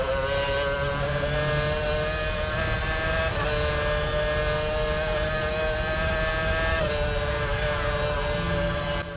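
A Formula 1 car engine in the racing game F1 2006, screaming loud and steady at high revs, with brief upshifts in pitch as it runs flat out through a corner.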